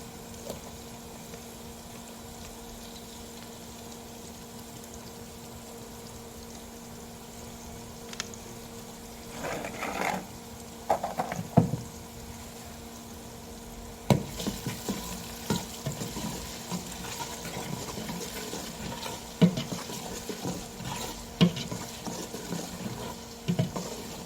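Ginger and garlic sizzling in a pan, a soft crackle that starts quietly and grows busier partway through, with scattered stirring clinks and no speech.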